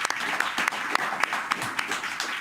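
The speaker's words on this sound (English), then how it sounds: "How about a round of applause for all of you guys for sitting in here today?" A studio audience gives a short round of applause at the close of a news talk program, moderately loud and fairly close, with a thin, steady patter of claps and a few sharper individual hits standing out.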